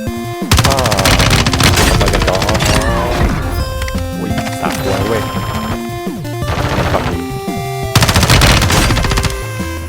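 Gunfire in the mobile shooter game Warzone Mobile: loud, rapid automatic bursts and crashing impacts layered over dense game music and effects, nearly continuous throughout.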